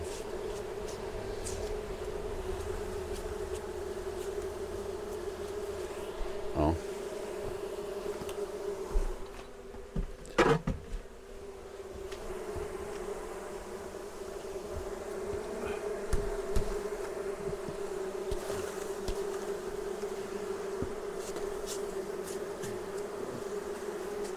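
Honey bees hum in a steady, dense drone at the last beehive inside a mobile apiary pavilion during a honey harvest, with brief knocks and rustles partway through and no talk.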